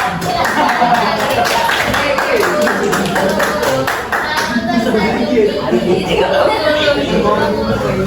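A classroom of students claps hands amid lively chatter and chuckles, rhythmic bursts of clapping mixing with voices and laughter throughout.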